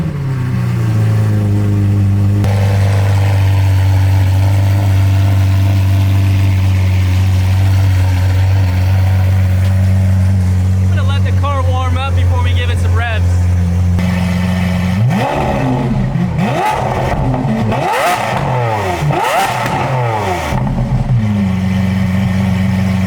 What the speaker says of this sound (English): this car also has a Bowden exhaust on it, and he's given us permission to start it up and make some noise.